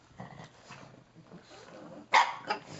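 Dog barking once sharply and close, followed by a smaller yip, after a stretch of soft household noise and faint voices.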